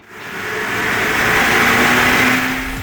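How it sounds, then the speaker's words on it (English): Stock Suzuki Jimny 1.5 engine with its standard exhaust running on a dyno, a steady, mild droning hum that swells as revs rise and holds near a plateau before easing slightly. "And that exhaust note, well, it's hardly sporty."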